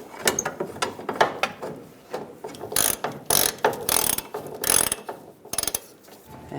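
A ratchet tightening the bolt on a fuel tank strap of a 1999-2006 Chevrolet Silverado, rapid clicking bursts, close and sharp, with brief pauses between strokes.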